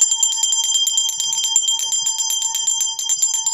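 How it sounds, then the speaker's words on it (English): A bicycle bell is rung rapidly and repeatedly for several seconds, a steady stream of sharp, ringing metallic chimes close to the listener, alone without speech. "I won't stop until you ring that bell."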